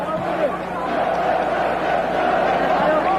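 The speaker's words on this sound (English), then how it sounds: "Another strong cheer from the Chinese cheering squad out here" A Chinese cheering squad roars steadily through a basketball free throw at the 1990 Asian Games final, China against the Philippines, the dense crowd noise holding loud and continuous throughout.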